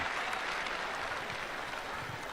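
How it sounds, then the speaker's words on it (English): Crowd cheering and applauding for Trump at a rally as he walks down a ramp, a steady broadband roar of clapping and cheers that holds at the same loudness throughout, with no clear voice standing out. "They're cheering him."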